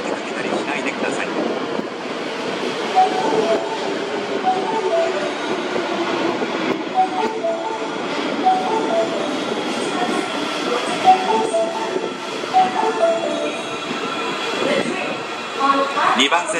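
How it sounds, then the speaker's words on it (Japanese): A 30000 series train bound for Nakatsu rumbles and rolls into Shin-Kanaoka Station platform 2 with rail clatter and faint squeals, while Japanese station announcements and voices carry over the constant din. "2番線に中津行きが到着します。"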